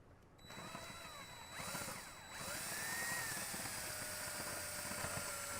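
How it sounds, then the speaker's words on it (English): A cordless power drill bores a hole up through the metal and wood of an RV roof, with a steady close whine that rises and dips in pitch as the bit loads and frees, continuing without pause. "let's go ahead and start drilling and get a hole up through the roof"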